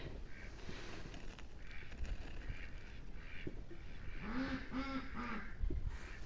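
Ducks quack repeatedly at a moderate distance, their harsh calls building toward the end over a steady outdoor background hiss on a frosty winter day.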